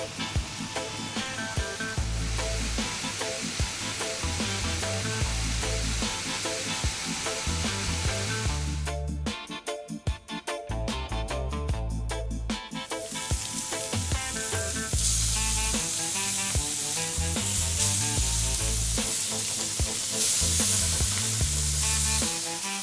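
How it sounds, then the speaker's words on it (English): Pork sizzles in a pan over above-medium heat, a dense continuous crackle and hiss with a brief dip midway before picking up again, played under background music. "Going to cook these on a above medium heat for about 7 or 8 minutes."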